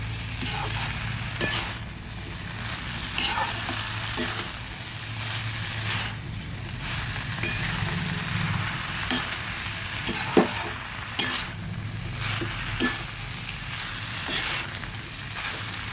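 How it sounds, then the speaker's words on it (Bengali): Banana flower curry with potatoes frying and sizzling in a pan while being stirred, a steady hiss broken by repeated scraping and clinking strokes of the spoon, close and fairly loud with no talking. "ভালোভাবে নেড়ে দিচ্ছি"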